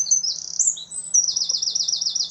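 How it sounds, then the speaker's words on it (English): Small birds chirp and tweet close by in quick repeated bursts, a lively run of high calls with a faint low hum underneath. "And look, I can hear the birds chirping."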